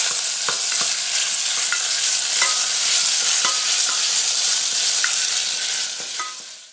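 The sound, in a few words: stirring tomato sauce with tomato paste in a pan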